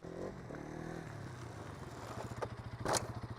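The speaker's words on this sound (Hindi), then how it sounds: "ये देखो आप, ये होती है बैड स्टॉपी जो कि नॉर्मल इंसान करता है" A motorcycle performing a stoppie gives a close engine drone that shifts pitch, followed by a rapid pulsing chug with a couple of sharp scraping bursts toward the end.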